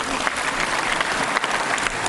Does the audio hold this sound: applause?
yes